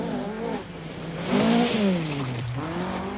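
A Vauxhall Chevette rally car competing on a Scottish rally, its engine loud and close, revving up and dropping back in swelling, rising-and-falling pitches as it drives hard.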